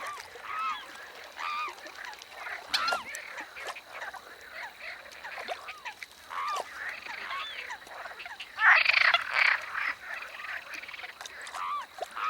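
Dozens of frogs croak together on the surface of a lake in La Brenne, France, a dense overlapping chorus of repeated croaks near and far, swelling louder toward the end with no voices.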